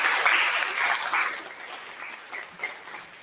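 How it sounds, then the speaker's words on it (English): An audience gives a round of applause for students at a Hartford event, with a full burst of clapping at first that thins out into scattered claps by the end. "I'm gonna give one last round of applause for my students, by my students."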